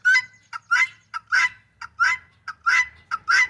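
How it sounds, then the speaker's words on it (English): Guinea fowl on a farm call loudly and up close in a rapid series of harsh, rhythmic squawks, about a dozen bursts with no other sounds. "That is guinea fowl."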